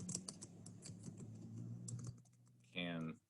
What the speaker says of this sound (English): typing is hard